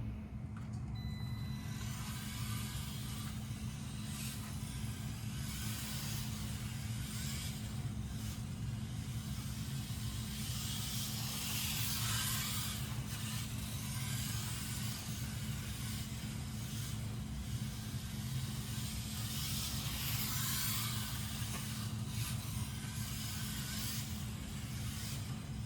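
A Wltoys 1:28 scale AWD RC car runs laps on a track, its small electric motor giving a steady, faint whirring drone with slight surges, and no one talks.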